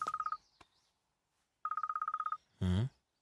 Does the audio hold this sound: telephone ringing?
yes